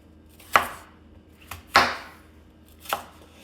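A kitchen knife chops through tough Armenian cucumbers on a cutting board, four separate crisp knocks spaced unevenly over a few seconds, close and clear with a quiet background.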